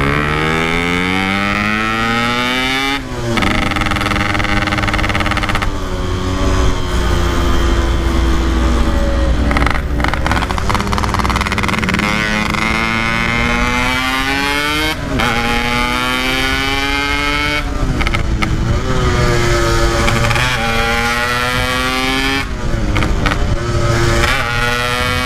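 A motorcycle engine drones loudly and continuously while speeding along an uneven road, its pitch climbing and falling through repeated gear changes, close and unbroken for the whole stretch.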